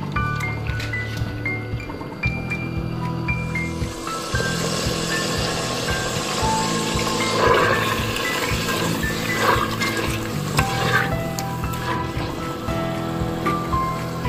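Green masala chicken fries in a pan with a continuous, even hiss of sizzling under a low steady hum, the texture swelling slightly midway as it is stirred.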